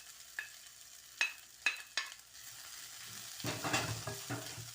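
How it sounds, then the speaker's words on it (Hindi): Raw grated potatoes drop into a hot pan of lightly sautéed onions, a few separate clinks of a spoon against the pan, then a louder, steady sizzle of frying swells up near and alone. "अब मैं आलू डाल रही हूँ"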